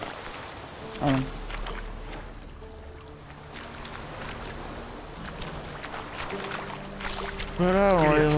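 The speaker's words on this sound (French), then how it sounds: "on les entend fort là, les bruits d'eau là" Water sloshing and lapping around a boat in the fantasy video game The Witcher 3: Wild Hunt, a steady wash of in-game ambience with bursts of louder splashing, mixed with game music and someone talking over it.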